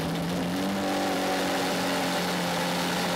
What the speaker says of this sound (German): schmeißen wir die Autos mal an und fahren los